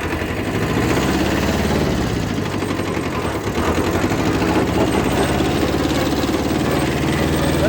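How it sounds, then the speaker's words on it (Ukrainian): Small tractor engine idling steadily outdoors in frosty weather, a close, continuous low rumble with a constant mechanical vibration and no breaks. "Це такий трак тракторик."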